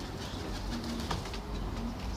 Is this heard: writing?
no